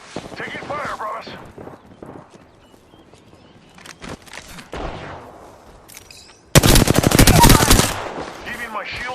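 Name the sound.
gunfire in the video game Apex Legends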